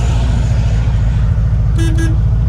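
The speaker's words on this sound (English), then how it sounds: "German sounding horn." Horn of a restored, lowered 1964 Volkswagen Beetle with an 1835cc motor, giving two short loud honks over steady engine and road noise.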